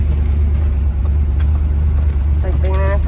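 A restored 1966 Chevrolet Corvette 427 V8 convertible with a redone exhaust system and manifold is driven, its engine a loud, steady low rumble close by, with a brief rise in pitch near the end.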